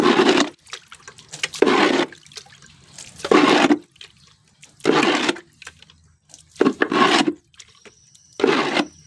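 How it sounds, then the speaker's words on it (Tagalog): Fresh water being poured into a horse's feeder during cleaning, heard as six separate splashing, gushing bursts of a second or so each, spaced by short quiet gaps, close and fairly loud with no talking. "May papalitan natin ng panibagong tubig para malinis."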